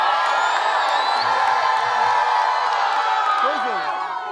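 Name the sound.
crowd cheering with joy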